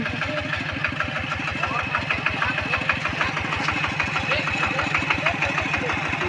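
A car engine idles steadily nearby, a loud, even low rumble with a regular throbbing pulse throughout.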